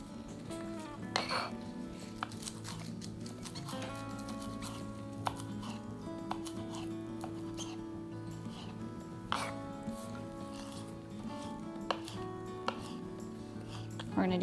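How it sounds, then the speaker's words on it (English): Fresh basil leaves are cut into tiny bite-sized pieces for a honey lime quinoa salad, giving a string of sharp knife taps on a cutting board with faint kitchen clinks between them, close and unhurried. "Just cut it up in tiny bite-sized pieces."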